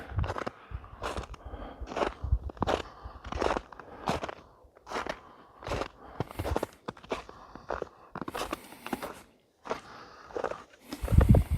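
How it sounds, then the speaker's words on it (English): Footsteps crunch through snow in a steady walking rhythm, each step a sharp, close crackle separated by brief quiet. "Nothing like the crunchy sound of snow, yep."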